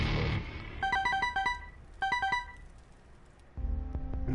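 Phone ringing in the background of a Binding of Isaac Afterbirth play session, two short bursts of repeated electronic ring tones, clear and moderately loud, followed by a tonal in-game musical sound.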